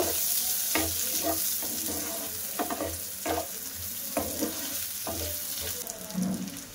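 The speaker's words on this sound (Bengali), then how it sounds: "কিছুটা কাজু বাদাম দিয়ে দেব। দিয়ে এগুলো ভাজা করে দেব।" Raisins and cashews sizzle steadily in oil in a pan while a spoon stirs and scrapes in regular strokes, close and fairly loud, with no talk.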